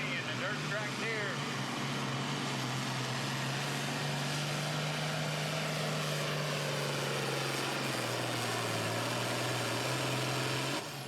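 A dirt track John Deere pulling tractor roars steadily and loudly through a tractor pull at Franklin, Kentucky, its low engine drone holding on with a slight drop in pitch near the end, and crowd and commentary noise underneath.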